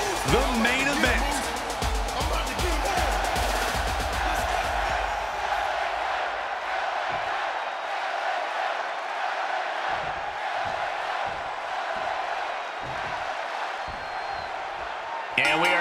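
An arena crowd roars and cheers at a WWE 2K24 wrestling main event, loud at first with rising whoops and thumps, then settling into a sustained crowd wash under occasional impacts.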